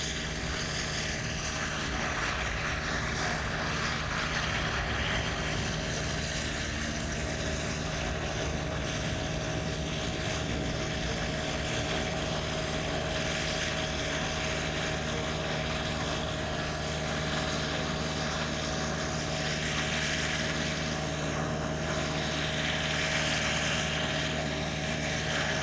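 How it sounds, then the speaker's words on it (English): A Boeing 787 airliner on the ramp at Chicago O'Hare airport gives off a steady, loud jet engine drone with a constant tonal hum that runs unbroken and alone throughout. "American Airlines Flight 160. It's a Boeing 787."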